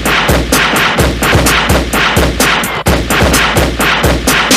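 Rifle gunfire sound effects in a funk remix crack out in loud, rapid bursts, repeating in a tight rhythm over a booming bass beat.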